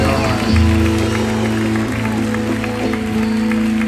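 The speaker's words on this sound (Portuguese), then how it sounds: "Uma salva de palmas pra essa banda!" An audience applauds a band at a live show, clapping spread across the room while sustained instrumental tones and a voice carry on over it.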